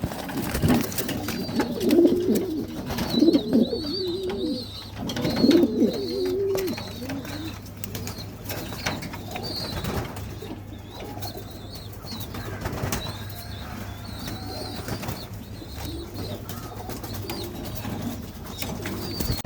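Homing pigeons, a pedigreed breeding pair kept indoors, cooing in low repeated throbbing calls up close, with occasional wing rustles and faint talk in the background.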